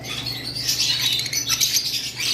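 Lutino red-eye pet birds give sharp, repeated squawks and chirps, one after another. The calls are close and steady over a low background hum.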